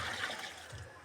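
Tuba, fresh coconut wine, pours in a steady trickling splash, a short close liquid stream filling a container, heard alone without talk.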